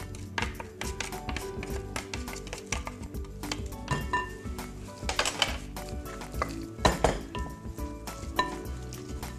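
Apple is being mixed into a Christmas pudding mixture in a bowl, with close, uneven scraping, clinking and knocking of a utensil against the bowl in irregular bursts.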